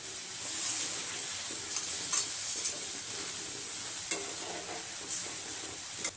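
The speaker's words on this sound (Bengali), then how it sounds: "এবার আমি মশলা ধোয়া জলটা দিয়ে দিলাম।" Spice-washing water goes into a pan of frying fish curry, setting off a steady broad hiss of sizzling with a few soft stirring knocks, no voices over it.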